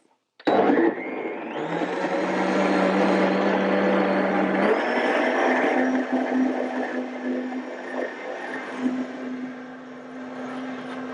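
A blender whirs loudly and steadily, its motor pitch shifting partway through as the blades work, running continuously with no talking.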